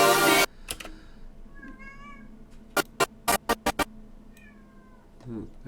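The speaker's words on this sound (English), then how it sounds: "there's the kitty cat again" A domestic cat meows a few times, mid-distance and moderate, after a loud burst at the start; a run of sharp clicks like keyboard taps falls between the meows.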